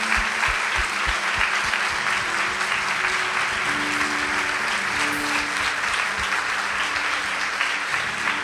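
A church congregation claps steadily and fully for several seconds, a dense wash of applause with no voices standing out.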